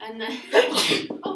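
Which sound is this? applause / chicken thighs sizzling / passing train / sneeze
sneeze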